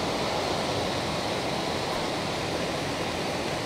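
Floodwater of the Godavari river at Nashik after heavy rain, a dense steady rush and roar, loud and continuous with no break.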